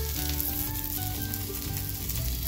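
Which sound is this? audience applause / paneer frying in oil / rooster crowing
paneer frying in oil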